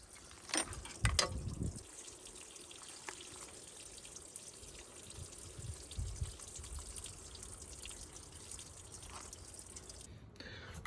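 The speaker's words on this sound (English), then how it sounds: "when I'm pouring water in here, I've got a head of water" Water pours and trickles into the cooling system of a 1978 Jaguar XJ6 barn find, with a louder splash near the start, then a steady low gurgling fill that runs on for several seconds before fading out.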